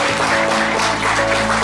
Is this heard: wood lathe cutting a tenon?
no